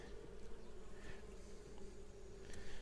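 Honeybees from a package-bee colony buzz steadily at an open hive, a soft, continuous drone with a few louder passes of single bees near the end, faint and close, with no speech.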